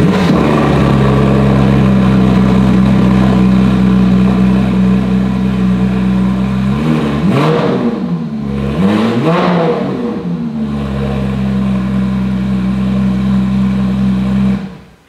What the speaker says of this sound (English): So the only six cylinder and the loudest car in the freaking collection.